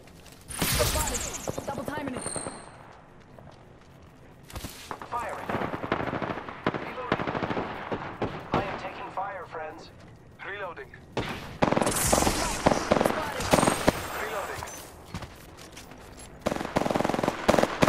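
Rapid automatic gunfire bursts in an Apex Legends match, loud and repeated across the stretch, with brief pauses between volleys and game voice callouts speaking over it.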